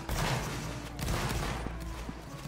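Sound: musket volley fire in Roblox Napoleonic Wars video game

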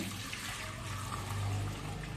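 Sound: pouring water out of a vessel

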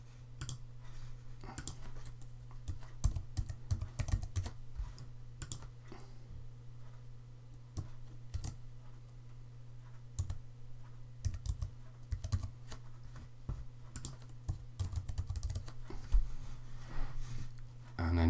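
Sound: typing on a computer keyboard

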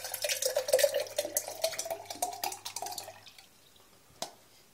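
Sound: blood orange juice pouring slowly through pulp

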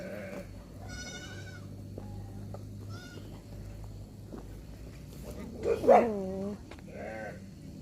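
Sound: sheep bleating at a sheep farm

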